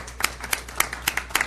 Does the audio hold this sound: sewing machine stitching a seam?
no